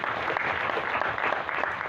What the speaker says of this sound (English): Can we give a round of applause for that?